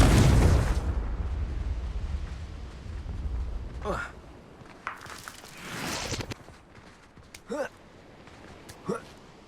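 A Confringo fire spell explodes in Hogwarts Legacy, a loud, close boom that opens and quickly fades. Sparse, quieter bursts and short voice snippets follow.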